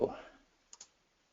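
Two quick mouse clicks close together, faint and near, made while working in CorelDRAW on a computer, following a fading burst of other noise at the start.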